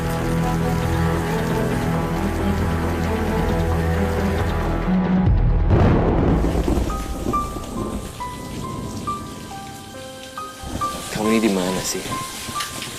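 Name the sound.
rain falling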